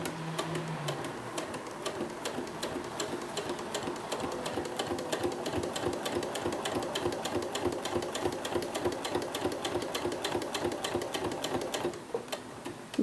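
A sewing machine stitches slowly and evenly at stitch length 3.3 while sewing a bag, making a soft, continuous run of rapid ticking that stays steady without pauses.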